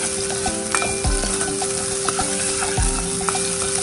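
Ginger sizzles and fries in hot oil in a casserole pan, a steady close crackle with a few sharp clinks of stirring, and no one speaks.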